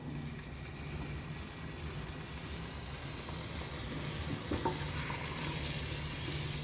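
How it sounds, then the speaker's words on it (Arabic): Hot water poured over rice already fried in butter or ghee in a pot, giving a continuous loud hissing, bubbling rush close by with a few small knocks near the end. "هاي بعد ما قلبت الرز عندي مع الزبدة أو السمنة، بنزل بالمي، بس بدها تكون مي سخنة"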